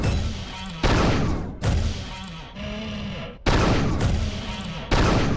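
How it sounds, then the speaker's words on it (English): Four sharp practice shots from the dispersion pistol in Unreal 2 ring out at uneven intervals, each blast loud and close with a ringing tonal whine lingering between them. "Take a couple practice shots."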